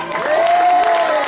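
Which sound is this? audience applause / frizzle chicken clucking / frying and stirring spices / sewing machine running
audience applause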